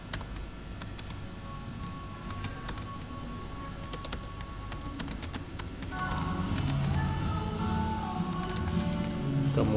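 Clicky computer keyboard keystrokes while working in a Word document, with scattered single taps and a few quick runs of presses such as repeated Enter hits, close and fairly quiet over a low background hum.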